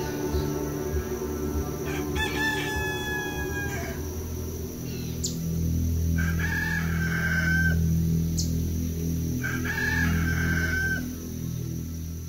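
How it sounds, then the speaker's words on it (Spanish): A rooster crows three times in close succession, each call loud and near, over a constant low hum and a thin insect-like whine, with no talking. "El canto del gallo indicaba que ya era domingo y que Dana aún no aparecía."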